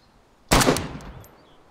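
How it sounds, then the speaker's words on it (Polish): A single sharp gunshot in a video game, loud and close, cutting in abruptly and trailing off in a short echoing decay. "Strzał do mnie. Strzał do mnie."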